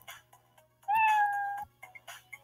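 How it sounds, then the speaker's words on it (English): A cat meows in a video game, one drawn-out rising and falling meow heard clearly and fairly close, set against soft background game sounds and a low steady hum. "Is that a cat in here?"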